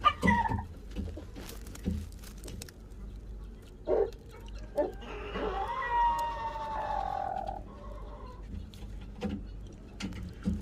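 Soft clucking and cheeping from a guinea fowl hen with her newly hatched chicks, scattered quiet calls over a low background hum.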